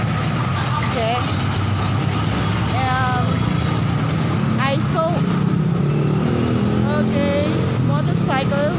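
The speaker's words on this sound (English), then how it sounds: "Motorcycle, people love to ride in motorcycle." Busy Philippine street with motorcycles and tricycles passing, a steady dense rumble of engines and traffic noise throughout, with occasional high chirping tones and people talking in the background.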